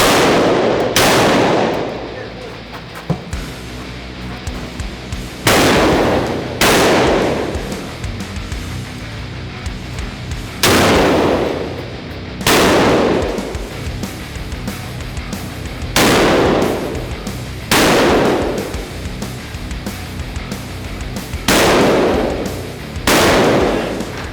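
Loud gunshots fired one at a time at fairly regular intervals at a Philippine Air Force firing range, each sharp blast followed by a short ringing decay.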